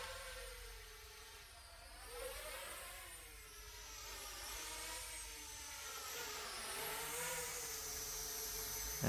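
A DJI Mini 2 drone fitted with small red 3D printed toroidal propellers hovers and flies outdoors, a steady whirring buzz whose pitch wavers up and down as it maneuvers, fairly faint and at a modest distance.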